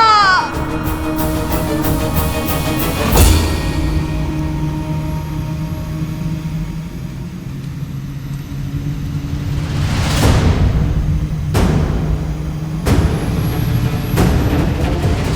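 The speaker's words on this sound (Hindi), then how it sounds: "लंकेश का विमान।" A dramatic sound effect for Ravana's Pushpak flying aircraft: loud continuous rumbling roar with sweeping whooshes and sharp swells, layered over music, with no speech.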